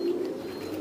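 A male high-flying pigeon gives a single low, throaty coo, close and clear over a quiet background.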